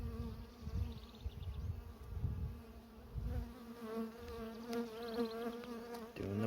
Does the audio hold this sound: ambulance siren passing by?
no